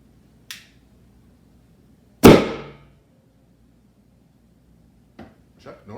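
Homemade methanol-fuelled cannon fires once with a single sharp, loud bang that rings out and decays over a fraction of a second, preceded by a faint click and followed by quieter taps in an otherwise quiet outdoor setting.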